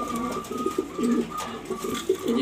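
Two young squab pigeons, offspring of a pair kept for sale, give soft, repeated throaty coos in a steady bubbling rhythm, close by, with a faint high tone running underneath.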